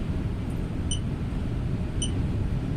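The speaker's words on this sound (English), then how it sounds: "That noise you can hear, irritating, is the dash cam." A car dash cam gives two short, high electronic beeps about a second apart over a constant low rumble of road noise.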